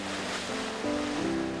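Ocean waves wash steadily at a seaside on Jeju in a continuous, fairly soft roar of surf, with a faint tonal hum running underneath.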